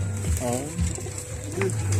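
Soft pigeon coos, a couple of low rolling calls, close by with a constant low hum in the background.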